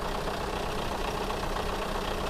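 An old used truck's engine runs with blow-by, giving a steady, loud, even rumble with a hissing edge that holds unbroken from start to finish, with no voices.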